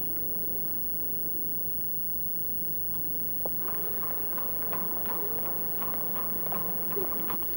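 Horse hooves clop in a steady, uneven patter over a low background hum, soft at first and then a little louder and more distinct toward the end.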